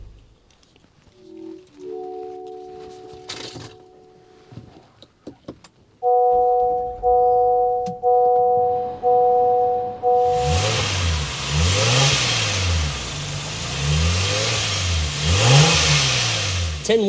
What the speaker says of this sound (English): start it up so you can hear that exhaust.